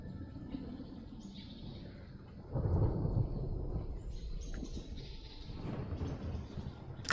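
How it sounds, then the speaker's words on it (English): A thunderstorm in the survival game Smalland, with steady rain and low rumbling thunder that swells loudly around the midpoint and rolls on, joined by faint bird chirps and no talking. "It's got the storm sounding right, though."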